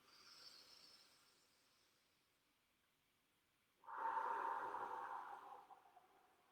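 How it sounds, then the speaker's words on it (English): Slow, soft breathing during a guided yoga relaxation, a faint, quiet stretch followed by a louder, airy breath lasting a couple of seconds, heard alone with no talking. "Long, slow breath, breathing in."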